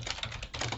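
Rapid keystrokes on a computer keyboard in an office, a brief, close, steady patter of clicks.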